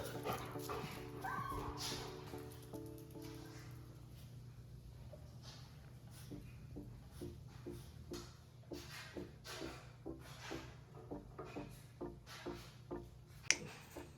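Several dogs whimper and yip while meeting a new pet pig indoors, with soft whines early on giving way to a run of short, close yips and small barks, and a brief voice can be heard.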